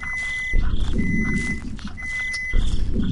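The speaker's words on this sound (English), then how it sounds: "Just ignore those five beeps" Three long electronic alarm beeps sound at even intervals over a low rumble of outdoor noise and wind.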